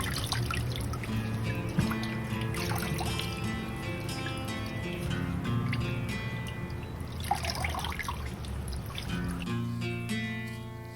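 Jute leaves being washed in water produce steady trickling, dribbling and splashing from a tap, with occasional drips and swishes as the leaves are handled, close and continuous for several seconds.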